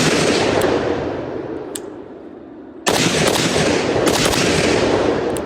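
Zastava Zpap M85 rifle shots at 25 yards, a rapid string of loud sharp cracks with a brief pause, a couple of scattered shots, then another fast volley, heard close on an outdoor range with no talking.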